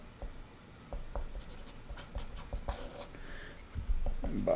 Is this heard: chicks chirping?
no